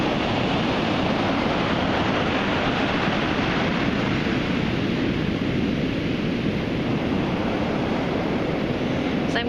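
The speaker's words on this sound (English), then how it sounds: "first listen to the particular frequency of the ocean today" Ocean surf on a turquoise sea roars in a constant broad wash of breaking waves, steady and enveloping with slight wind noise, no voices.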